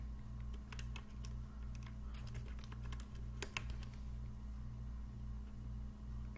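Fingers type on a DIERYA gaming keyboard, giving quiet, irregular mechanical key clicks over a low steady room hum, with no talking.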